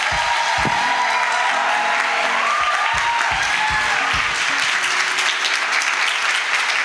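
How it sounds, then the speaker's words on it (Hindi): A church congregation claps loudly and continuously for God during a Hindi worship service, a dense wash of many hands with faint voices and tones underneath. "आइए हम खुदा के लिए एक अच्छी ताली बजाएंगे।"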